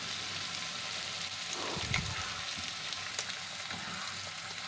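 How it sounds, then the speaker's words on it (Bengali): Eggs and chopped tomato frying in a pan for chow mein give a continuous soft sizzle, with a brief louder scrape and crackle as they are stirred together, close and without talk. "ডিমগুলো ভালোভাবে নাড়াচাড়া দিয়ে মিশিয়ে নেব।"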